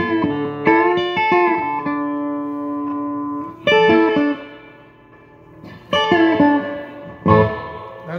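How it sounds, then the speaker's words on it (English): Electric guitar played through an amplifier's built-in reverb, with four loud chord strikes that each ring out and decay slowly in a washed, reverberant tail, and no voice alongside. "Reverb's coming from the amp."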